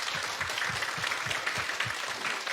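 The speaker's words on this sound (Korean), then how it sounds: "박수로 맞아주세요" A studio audience applauds steadily to welcome a well-known female lecturer onto a Korean television talk show, with dense, continuous clapping and no voices.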